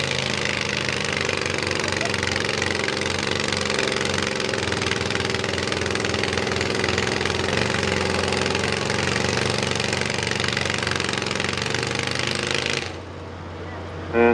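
A John Deere garden tractor engine runs at a fair tractor pull, a loud, steady, knocking mechanical roar that holds for about thirteen seconds and then drops away abruptly.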